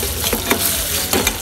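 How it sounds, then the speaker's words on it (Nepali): Eggs sizzle in hot oil with cumin, onion and turmeric at a street food stall in Butwal, Nepal, a loud close continuous frying hiss with light stirring scrapes. "दाइले स्टार्ट गर्नुभएको छ जिरा हाल्नुभयो प्याज हाल्नुभयो हर्दी हाल्नुभयो र अब अन्डा हाल्नुहुन्छ"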